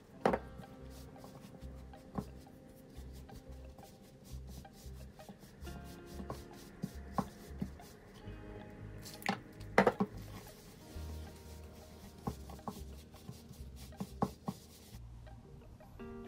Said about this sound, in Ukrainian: Приблизно 4 рази підливаю і перемішую.